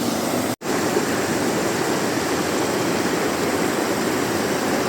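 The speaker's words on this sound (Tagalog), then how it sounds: "Flowing ang tubig guys," River water rushes in a steady, full roar at close range, a constant broadband wash with a brief dropout near the start and no voices.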